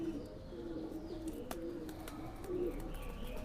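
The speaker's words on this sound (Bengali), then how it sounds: "মানে কবুতরগুলো দেখেন কত সুন্দর কবুতর" Bangladeshi local high-flyer pigeons cooing softly in a loft, low repeated coos close by with a few light clicks and rustles in a quiet setting.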